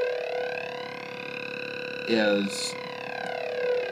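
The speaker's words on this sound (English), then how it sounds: "tweaking the LFO control, controlling the filter." Arturia MiniBrute synthesizer with its LFO sweeping the filter through a reverb pedal, a sustained buzzy tone with wavering harmonics throughout, briefly interrupted by a short spoken word.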